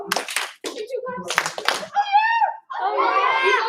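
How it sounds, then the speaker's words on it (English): Short sharp claps from a class of children, a couple of quick bursts mixed with kids' voices and cheering, close and fairly loud. "Give 2 claps."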